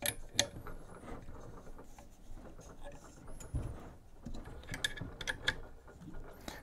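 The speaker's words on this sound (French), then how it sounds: "Je vais commencer par prendre la clé et je vais desserrer." A wrench loosens the wheels on an Alfawise U30 3D printer frame, making light, irregular clicking and ratcheting sounds from close by over a low background hiss.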